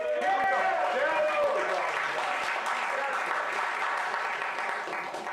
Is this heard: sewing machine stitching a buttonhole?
no